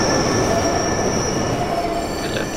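A train arrives in the Roblox game The Last Stop, with loud, sustained high-pitched squealing of wheels on rails over a dense rumble that eases slightly toward the end, with no speech.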